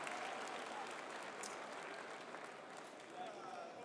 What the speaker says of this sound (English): you can applause also for Kevin Hangs